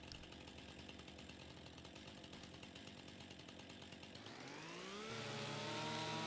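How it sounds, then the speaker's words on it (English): A revved chainsaw in a video game idles with a steady buzzing drone, then loudly winds up into a rising, high-pitched engine whine that holds at full throttle. "Let me just jump in the air with this chainsaw revved up."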